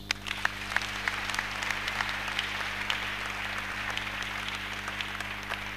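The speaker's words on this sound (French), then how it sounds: "Acclamons Jésus." A church congregation claps for Jesus in steady, moderately loud applause lasting several seconds, scattered sharp claps standing out over a dense crowd patter, with a low hum running underneath.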